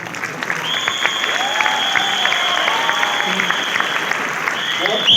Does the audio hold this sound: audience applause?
yes